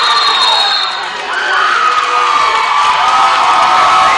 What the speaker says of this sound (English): now the Lancer crowd is getting into it